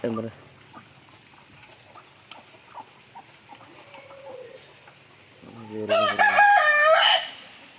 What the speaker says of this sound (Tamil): எல்லா கோழியும் ஜாலியாக இருக்கும் ப்ரோ.